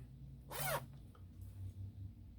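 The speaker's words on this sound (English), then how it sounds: "This one's got a good zipper on." A brief, quiet rasp of a zipper being pulled on a North Face jacket, one short stroke against faint background hum.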